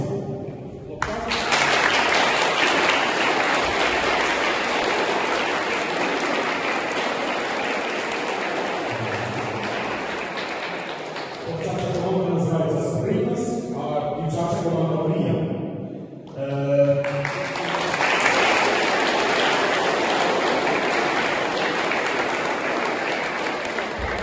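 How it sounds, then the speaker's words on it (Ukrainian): An audience claps warmly to welcome a village school team at a Ukrainian school league competition, loud sustained applause that fades briefly while a voice speaks, then swells again into a second burst of clapping. "Я пропоную оплесками привітати команду Мрія із села Долішнє, дівчат та хлопців"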